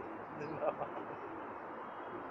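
Soft cooing of Pakistani pigeons in the background amid steady ambient noise, faint and somewhat distant, at a rooftop pigeon-flying loft in Jeddah.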